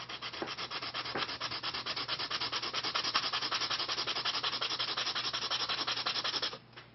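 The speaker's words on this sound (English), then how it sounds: "I'm going to sand it, I'm going to push down more at one end than the other." The end of a wooden Native American flute is sanded flat with a steady back-and-forth scraping stroke, rhythmic and close, running continuously for about six and a half seconds before stopping.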